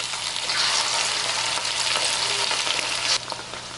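Chicken pieces dropped into hot oil for chicken Manchurian, frying with a loud, dense, close hiss and bubbling crackle that drops slightly in level near the end, with no voices.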